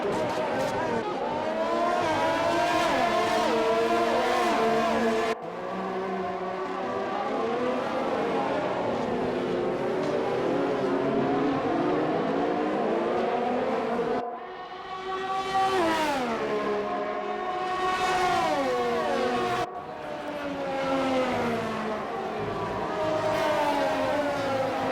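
Race cars in an Xbox One racing game at a Japan circuit, engines whining and revving through gear shifts as cars pass, with a commentator talking throughout.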